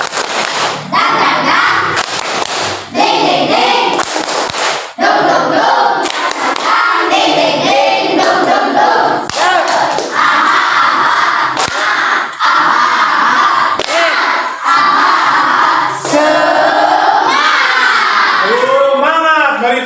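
A classroom of children does a rhythmic clapping chant as an ice-breaker, with loud, dense claps and shouted voices running continuously throughout, close and energetic.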